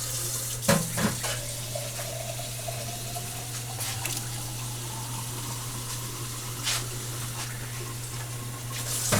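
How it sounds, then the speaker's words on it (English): Water running from a tap or poured into jars of chili verde, a steady close rush over a constant low hum, with a few clinks of the jars along the way. "I'm going to add a little water to these jars and get those juices in there."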